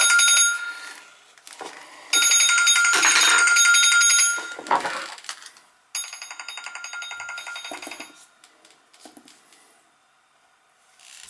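A telephone rings from an unknown caller in bursts of bright electronic trilling, two long loud rings separated by pauses, then fading out near the end with no one talking.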